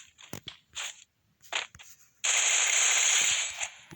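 Gunfire in the mobile shooter Free Fire: a few sharp isolated shots early on, then a loud, sustained burst of rapid automatic fire filling the second half, close and harsh.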